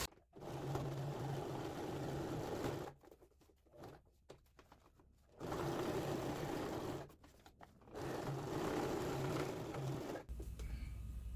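A sewing machine stitches a seam on a large insulated travel case, running in three loud bursts separated by quieter pauses with small handling clicks.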